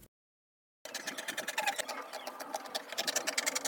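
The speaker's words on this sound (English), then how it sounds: "I'll just go ahead and cut out the rest of the fabric" Fabric being cut out for a top, a steady run of rapid close scissor snips and rustling cloth after a brief silent start, continuous and fairly quiet.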